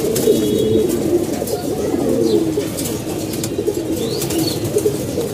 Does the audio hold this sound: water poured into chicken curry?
no